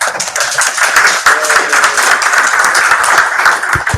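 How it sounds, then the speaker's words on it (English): Meeting attendees give a loud, close round of applause, a thick continuous patter of many hands clapping that lasts the full few seconds. "you're clapping."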